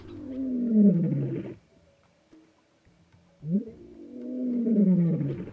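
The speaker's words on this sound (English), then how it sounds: "You hear a lion roar" A lion roars on an African safari, two long, deep, loud bellowing calls separated by a quiet pause of a couple of seconds, with no voices in between.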